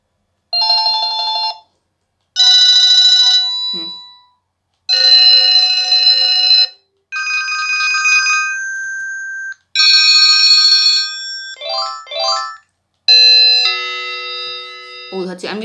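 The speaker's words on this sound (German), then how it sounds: "Oh, das hört sich an wie so eine Klingel an der Tür" A phone ringtone with a doorbell-like chime cycles through several bright, bell-toned melodic phrases, loud and close, with short gaps between.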